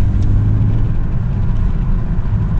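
BMW 530i pushed hard under acceleration, a loud, steady low engine roar and rumble from inside the car, continuous throughout with no talk.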